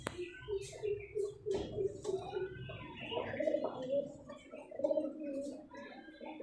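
A male Giribaz pigeon, a local breed, coos in repeated low throaty phrases close by, rhythmic and steady, with other loft noises and occasional clicks underneath.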